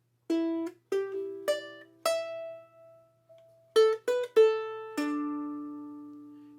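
A ukulele picks out a riff as single plucked notes, about nine of them in a halting rhythm with short gaps, the last note ringing out, clean and close.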